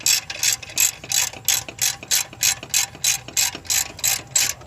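Rapid metallic clicks from a socket ratchet turning a nut on a Mazda Miata exhaust manifold, the strokes coming in a steady series of short bursts, close and clear with no talking.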